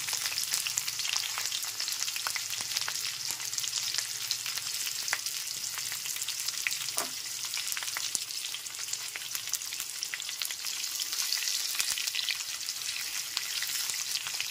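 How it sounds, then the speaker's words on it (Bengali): A medium-sized chopped onion fries over a medium-low gas flame in a pan for chicken korma, giving a continuous, even sizzle with faint stirring clicks and no talking. "গ্যাসের ফ্লেমটা মিডিয়াম টু লোতে রেখে পেঁয়াজ কুচিগুলোকে হালকা করে ভেজে নিতে হবে।"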